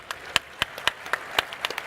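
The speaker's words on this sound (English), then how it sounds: "give yourselves a round of applause for being amazing gamers" A burst of clapping, several sharp hand claps in a quick irregular patter, like a small group applauding, with no voices.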